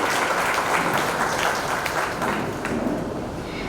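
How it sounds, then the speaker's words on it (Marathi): Audience clapping at a Marathi storytelling competition event, a dense, sustained burst of applause that holds steady and then eases off slightly toward the end, with no voices heard. "एकदा जोरदार टाळ्या वाजवा"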